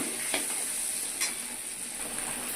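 Okra fries with turmeric and Kashmiri chili powder in a pan, giving a steady close sizzle with a couple of brief scraping strokes as it is stirred.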